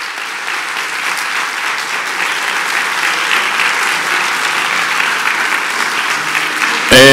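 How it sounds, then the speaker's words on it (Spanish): A conference hall audience at an international seminar gives sustained, even applause, loud and dense throughout, with a voice cutting in at the very end. "no has podido ver a tu público, pero has escuchado el cálido aplauso"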